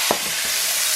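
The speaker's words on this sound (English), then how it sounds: "Samphire has just been thrown into the frying pan where the fish was, just to heat it up," Samphire hits a hot frying pan that still holds fish juices and sizzles loudly and steadily. A brief stirring scrape opens the burst of frying.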